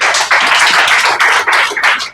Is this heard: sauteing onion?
no